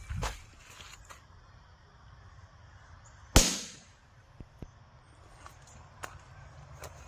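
A 3D-printed mini cannon loaded with a firecracker fires with one sharp, loud bang that rings and decays, set among quieter outdoor clicks and small knocks before and after.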